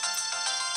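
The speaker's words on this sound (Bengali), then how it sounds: "তুমি কি বিছনা থেকে নেমে দুপা গিয়ে ফোনটা ধরতে পারছো না?" A mobile phone ringtone rings indoors in a bright, repeating electronic melody with regular pulses, loud and close, with no voices over it.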